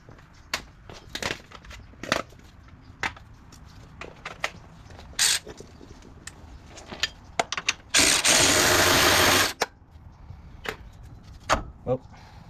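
An electric ratchet works on car suspension bolts with a single loud, steady buzzing run of about a second and a half, set among scattered clanks and knocks of tools and metal parts.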